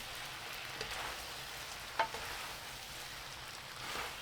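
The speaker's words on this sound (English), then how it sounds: "Put the rice noodles and the seasoning sauce. Occasionally stir for 3 minutes." Rice noodles and seasoning sauce frying in a pan, a quiet, steady sizzle with a faint clink of stirring partway through.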